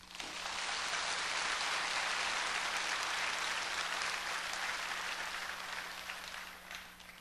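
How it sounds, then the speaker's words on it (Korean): A church congregation claps together during a sermon, a broad steady wash of many hands heard from a distance for about seven seconds, with a faint low hum underneath. "된다고 생각하시면 박수 좀 치셔."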